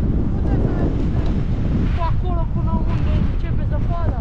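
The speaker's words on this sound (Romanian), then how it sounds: "bate vântul aici sus." Strong mountain wind buffeting the microphone high up in the Doftana valley in April, a loud continuous rumble with gusts, alongside faint chirping.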